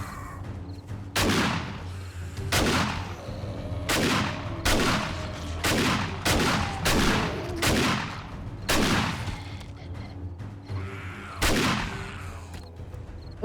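Rapid bursts of firearm shots in the zombie survival game 7 Days to Die, around a dozen sharp loud reports spaced unevenly in quick succession, close up over a low steady background.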